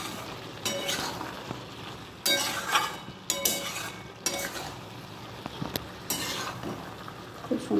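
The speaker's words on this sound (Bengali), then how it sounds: "এঁচোড়টা দিয়ে কিছুক্ষণ নাড়বো" A spoon stirs young jackfruit cooked with potatoes and mutton fat in a pan, making scraping and clinking sounds in irregular bursts over a soft sizzle, close and moderately loud.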